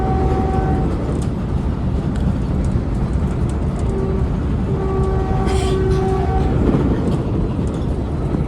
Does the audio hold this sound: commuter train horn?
yes